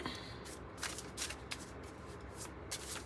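A deck of Inspiration City oracle cards is shuffled close up and quietly, with rapid rhythmic riffling bursts and soft flutters repeating over about three seconds, no talking.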